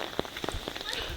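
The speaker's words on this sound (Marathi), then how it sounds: "पाऊस जास्त आहे" Heavy rain near Mahabaleshwar, a dense patter with scattered louder drops hitting a surface nearby, fairly faint and steady throughout.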